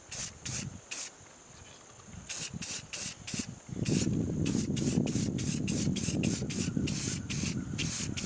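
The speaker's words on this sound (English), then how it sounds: "I am going to clear coat it instead of painting it" Short bursts of clear coat from a spray can hiss onto a bare metal axe head, several quick puffs followed by one long continuous spray, close and fairly loud.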